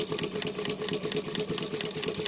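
A Mannan chain stitch embroidery machine with a 3/4 horsepower servo motor and a 45 mm pulley runs steadily nearby. Its rapid, even needle chatter hums over a low motor drone, with no speech.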